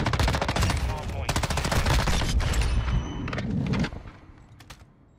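Rapid, loud automatic fire from an M13 rifle in a shooter game, dense bursts crackling for several seconds before cutting off abruptly and leaving a few faint distant shots.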